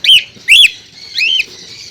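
Lovebirds calling at close range, three loud shrill chirps in quick succession with brief gaps, rising and falling sharply, clear and without background talk.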